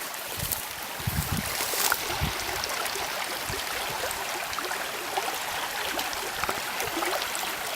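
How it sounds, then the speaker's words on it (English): Creek water flows steadily through the Colombian countryside, a constant close rushing wash with no pauses and no voices. "Now I'm gonna show you the creek that I was talking about"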